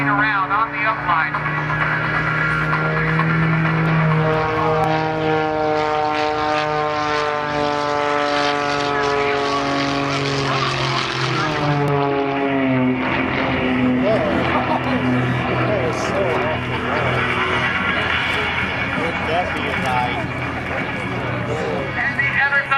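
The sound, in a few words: aerobatic propeller plane engine at airshow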